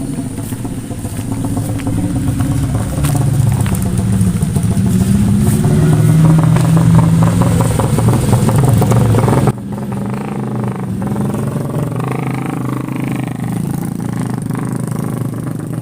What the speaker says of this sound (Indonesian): banyak motor.